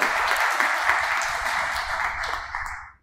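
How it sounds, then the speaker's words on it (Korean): At a signing ceremony for a Daegu regional problem-solving platform, the audience applauds a guest being introduced. The clapping is steady and moderately loud for about three seconds, then fades out quickly. "박수 부탁합니다"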